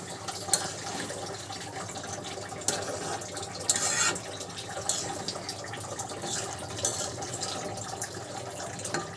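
Running water rinsing pangas fish in a kitchen, a steady splashing trickle with sharper bursts and sloshes as the fish is handled, with no voices.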